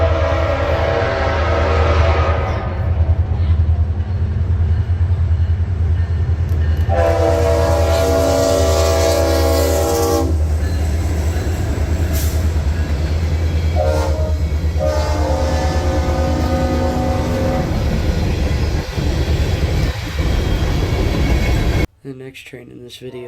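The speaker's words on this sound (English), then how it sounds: "let you listen to CSX 6504 roll by with an incredible" CSX locomotive 6504 rolls past sounding its Leslie RS5T five-chime horn, long loud blasts over a constant heavy engine rumble and rail noise, with a shorter horn burst in between, then an abrupt cut at the end.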